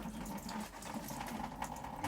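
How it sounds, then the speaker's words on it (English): Water flows steadily out of a pipe on an allotment plot, a continuous watery rushing and trickling at moderate level outdoors with no talking. "And water comes out here."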